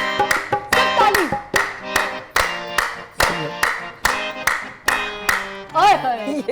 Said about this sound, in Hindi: चले सब ताली